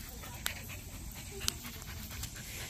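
A rescue dog pants quickly and steadily nearby, soft rhythmic breaths with a couple of small clicks, faint and low in level, with voices of people around it.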